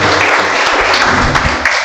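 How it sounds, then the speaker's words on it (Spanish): A church congregation applauds in a dense, continuous burst of clapping that stays loud and even, with a few voices faintly mixed in. "Dale ese fuerte aplauso al Señor"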